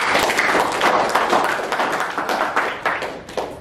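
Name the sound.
applause, everyone clapping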